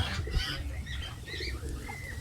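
A tumbling ground-roller pigeon, a long-flying breed, coos and flaps its wings close by on the ground, giving soft continuous murmuring and fluttering with no voices.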